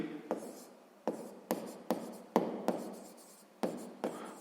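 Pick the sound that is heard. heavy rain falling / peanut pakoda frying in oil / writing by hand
writing by hand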